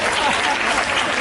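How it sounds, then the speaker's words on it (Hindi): Audience applause fills a live Hindi poetry and comedy recital stage event, a dense steady clapping from many hands sustained throughout, close and loud, with no speech over it. "4-5 लोग ताली बजा दीजिए।"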